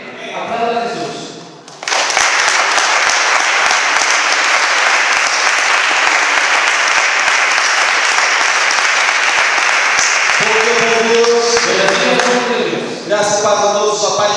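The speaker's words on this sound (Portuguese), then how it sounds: "Aplauda a Jesús" A church congregation bursts into loud, sustained applause that fills the room for several seconds, with a voice speaking before it and again as the clapping fades.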